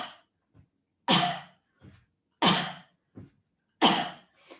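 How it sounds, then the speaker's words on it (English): A person gives three forceful pretend coughs during a yoga pelvic core exercise, evenly spaced and close, each preceded by a short quiet breath. "as you're lifting your head up, I want you to pretend to do a cough"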